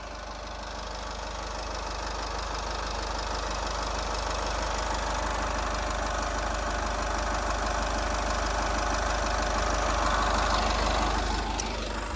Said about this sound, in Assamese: ডিজেল ইঞ্জিন হয় একদম নৰ্মেল সাউন্ড